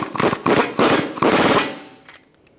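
A nut is tightened onto a ball joint bolt on a 2013–2022 Buick Encore, with the bolt head held by a 15mm wrench. Four loud, close rattling bursts come in quick succession, then stop, leaving a couple of faint clicks.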